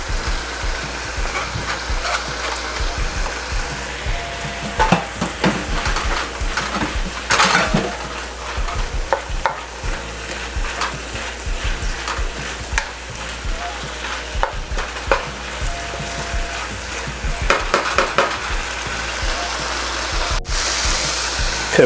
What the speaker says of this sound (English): Stir fry these down a little bit.